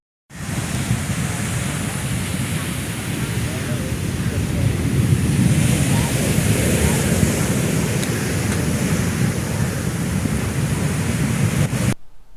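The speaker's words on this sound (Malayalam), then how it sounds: "മണൽച്ചാക്കുകൾ തകർത്താണ് തീരത്തേക്ക് കടൽ കയറുന്നത്." Strong sea surge at Karithura on the Kerala coast, in a black-sand mining area, sends waves crashing over sandbags onto the shore, a continuous loud roar of surf mixed with wind buffeting the microphone.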